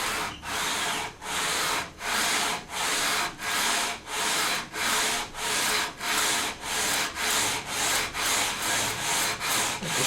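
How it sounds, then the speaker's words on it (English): Sandpaper on a radius block rubs back and forth along a wooden Stratocaster guitar neck fretboard in steady, even strokes, about two per second, close and moderately loud with no talking. "need to sand this radius into the fretboard"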